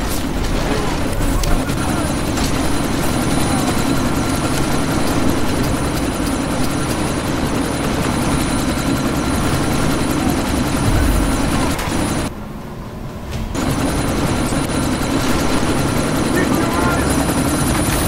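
Helicopter rotor drone from the video game Deus Ex, a steady loud chopping whir running throughout with a brief dip in level near the end, with game dialogue over it.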